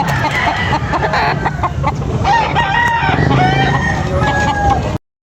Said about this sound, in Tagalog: Gwapo kayong manok mga kabakard.